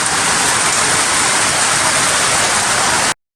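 Heavy rain pours steadily in a village in Papua New Guinea, a dense, loud, continuous hiss close by that holds constant before cutting off abruptly.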